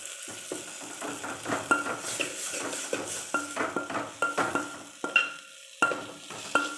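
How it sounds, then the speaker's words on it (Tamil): Ingredients being mashed in oil in a pan for a green gram dal curry, heard as quiet, irregular scraping and stirring strokes with soft sizzle, close and without talk. "நல்லா மசிச்சு விட்டுக்கோங்க"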